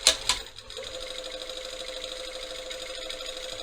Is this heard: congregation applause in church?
no